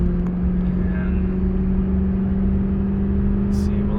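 A Mercedes C63 AMG 507 Coupe with engine issues drones steadily under load while driving, a deep constant engine hum with a strong low tonal note, heard from inside the cabin throughout.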